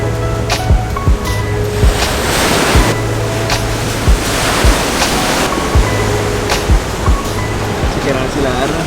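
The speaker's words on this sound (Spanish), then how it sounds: "Se ven buenas las olas" Ocean surf at Pacific Beach in San Diego, a steady broad roar of breaking waves with wind, close and loud, marked by intermittent thumps and clicks from the microphone.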